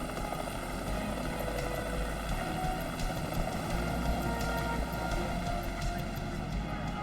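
Helicopter near a rescue site where victims are being pulled from collapsed concrete: a steady, low rotor drone with a faint hum, continuous and moderately distant, with no voices.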